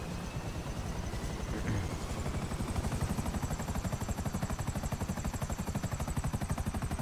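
Helicopter in the video game GTA 5 Online, a steady, loud rotor chop with a pulsing beat and engine whine running throughout, no voices.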